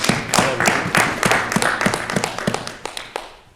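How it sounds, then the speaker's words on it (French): Church congregation clapping along in a steady rhythmic beat, sharp close claps repeating roughly every third of a second, with a few thumps underneath. "Applaudissons pour le Seigneur Jésus-Christ."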